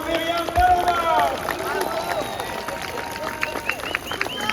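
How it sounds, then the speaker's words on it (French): A crowd at a national march for peace and freedom applauds a speaker, clapping and cheering in a loud outdoor wash, with voices and shouts mixed into the noise. "On peut applaudir très fort Myriam Paloma."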